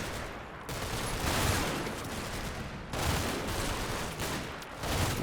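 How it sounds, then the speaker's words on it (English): Machine gun fire from the WWII game Combat Mission: Battle for Normandy, steady dense bursts of automatic gunfire rolling on for several seconds with short gaps, loud and continuous with no talk. "I need this machine gun out of action"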